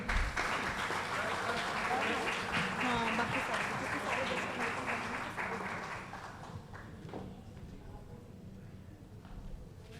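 At an awards and open-mic poetry event, the audience applauds as a chief guest is honored, steady crowd clapping that tapers off after about six seconds into a quieter room with talk.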